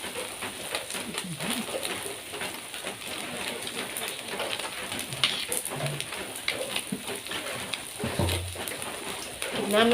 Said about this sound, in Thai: ร้อนๆกับบรรยากาศฝนตกอากาศเย็น ๆ นะคะ